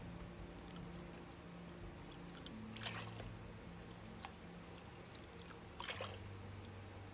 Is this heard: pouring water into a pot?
yes